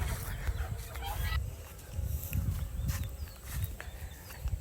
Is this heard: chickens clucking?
yes